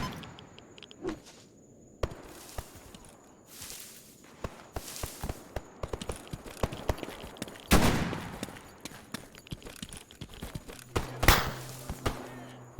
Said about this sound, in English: We hear gunshots close by.